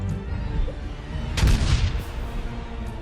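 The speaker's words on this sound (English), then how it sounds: "Grenade out!" A grenade explodes in the video game The Lamplighters League, a loud broadband boom about halfway through that swells and decays over roughly half a second, set against a dense background of steady game combat noise.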